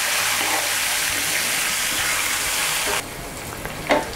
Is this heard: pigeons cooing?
no